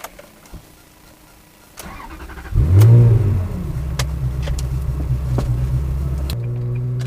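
A Ferrari 360 Modena engine fires up with a loud burst and then settles into a steady, close, throaty idle rumble that carries on, with the revs holding rather than climbing.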